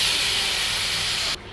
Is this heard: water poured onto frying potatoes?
yes